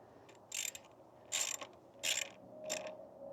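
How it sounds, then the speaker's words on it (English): Ratcheting socket wrench tightening bolts during assembly of a PostJoy GT16 3000W electric dirt bike, heard as four short bursts of clicking spaced about half a second to a second apart, close up and fairly quiet. "down here with our handy dandy socket set up, make sure that our little locking washer is nice and in place. Get those nice and hand tight."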